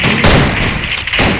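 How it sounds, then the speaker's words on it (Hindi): Rapid gunfire from the Free Fire mobile battle royale game crackles in a dense, continuous burst, loud and close, with no talking. "देखिए कितनी गोलियाँ चला रहा"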